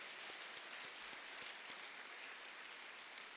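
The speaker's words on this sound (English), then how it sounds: "give the dance team a round of applause as well" Audience at a youth club celebration gala applauds the dance team, a faint, continuous wash of clapping from a distant crowd filling the room evenly throughout.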